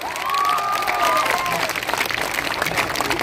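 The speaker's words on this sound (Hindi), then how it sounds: "इनके लिए ताली बजाइए जोर से।" A crowd at a political party event applauds a mathematics textbook author, dense clapping that swells then gradually thins, with a brief tonal whine or voice sound riding over the start.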